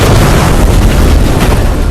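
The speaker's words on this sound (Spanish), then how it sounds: "Con el siguiente disparo de Kane, el tanque queda inoperativo" A deafening World War II tank cannon blast roars through the whole moment, a dense, rumbling boom that fills everything with no voices.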